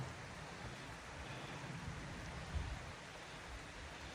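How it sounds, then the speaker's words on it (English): Water falls continuously beside a muddy uphill trail on the Camino de Santiago, a soft, distant, steady rush with a small bump near the end. "And the waterfall continues"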